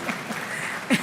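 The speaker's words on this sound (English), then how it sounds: "Clap for us, we're the runner-up." Brief applause from an audience for a university moot court team named runner-up, a short spell of clapping with a faint chuckle near the end.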